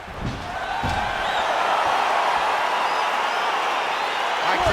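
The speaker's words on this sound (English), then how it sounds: "crowd getting excited as this fight gets underway" A virtual arena crowd in the UFC 4 fighting game roars steadily and densely as a bout begins, a continuous loud wash of cheering with a few muffled thuds beneath.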